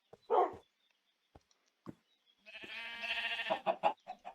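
A dog in the video game Galactic Chickens 2 lets out a short bark, followed by a few faint clicks and then a longer whining, yelping run of barks near the end, with no talking.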